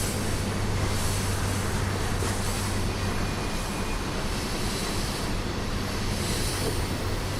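A CSX coal train coasts downhill at about 15 mph in the Trainz railroad simulator, giving a continuous rumbling roll of wheels and cars with a steady low hum, loud and unbroken.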